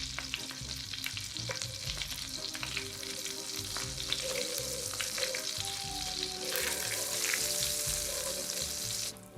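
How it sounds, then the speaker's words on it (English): Butter browning in a pan for a white sauce gives a continuous, busy sizzle and crackle, close and fairly loud. It swells into a brighter hiss partway through, and nobody talks. "So we're browning all of this butter"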